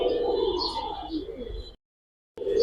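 A pair of Jabra Panki pigeons coo and warble close by in a soft rolling call that breaks off into brief silence before resuming.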